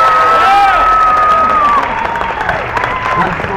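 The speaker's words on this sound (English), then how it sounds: "Let's go with the biggest applause Covent Garden's heard all of Easter." Street crowd applauding and cheering at a busker's show in Covent Garden, London, a loud sustained wash of clapping with whoops, heard over a voice on a microphone.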